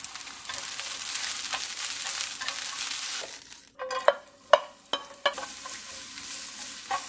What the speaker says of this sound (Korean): 다음으로 시금치를 볶아줄게요.